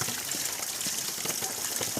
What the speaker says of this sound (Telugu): తమ్ముడు పట్టు వాటర్ పడుతున్నాడు